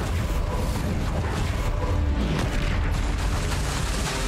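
An Incendio fire spell in Hogwarts Legacy roars as a dense, loud, sustained burst of flame and rumble filling the whole stretch, with no voices over it.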